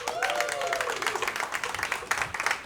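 Audience at a stand-up comedy club breaks into sustained applause and clapping, dense and steady for a few seconds with some scattered cheering mixed in.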